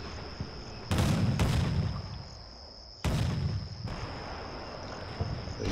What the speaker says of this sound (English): Got some enfilading fire now.